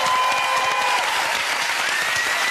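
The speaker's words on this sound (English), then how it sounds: "Give me a round of applause." Dense, continuous applause from a large studio audience on the game show All Star Family Fortunes, loud and steady throughout with no voices standing out.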